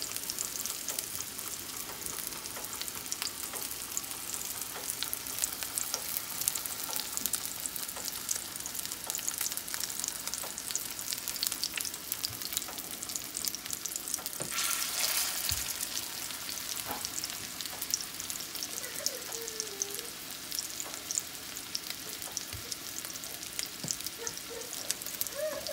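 Steady, close sizzling and spitting of venison burgers frying in a pan on medium-low heat, with occasional pops and faint scraping, continuous throughout with no talking.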